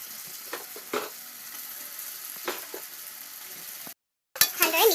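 Mashed potatoes frying in a pan for an Assamese tomato-potato fish curry give a soft, steady sizzle with a few faint clinks and stirring scrapes, close by, before a brief gap and louder handling noise.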